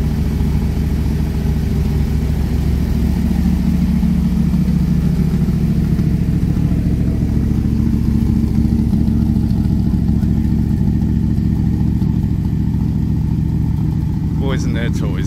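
A Cobra car engine runs steadily as it drives, a loud, constant low rumble that holds level throughout, with a voice talking over it.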